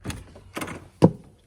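A cabin door in a small 470-square-foot cabin swings shut with a single solid thunk near the end, after a couple of softer shuffling movements, close and fairly loud.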